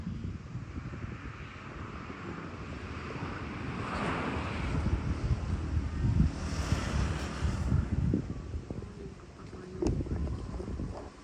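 Wind gusts buffet the microphone in a continuous low roar, swelling in the middle, with faint rustling around it.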